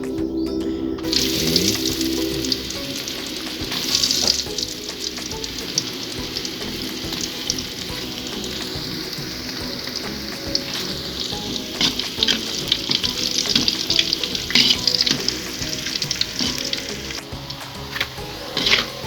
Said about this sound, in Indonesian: Kita goreng tempe dulu.